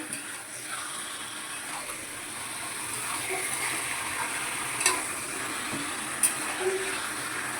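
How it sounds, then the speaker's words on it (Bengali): Chicken pieces sizzle steadily in a pan for a Bengali chicken curry as they are stirred, a continuous moderate frying hiss with a couple of sharp clinks of the spoon. "এই যে দিয়ে দিলাম চিকেনটা এবার একটু আমি হালকা আঁচটা বাড়িয়ে দিলাম দিয়ে এবার নেড়ে নেবো"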